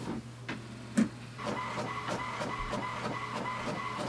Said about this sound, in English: click on the icon on the top here and just wait for the printer to print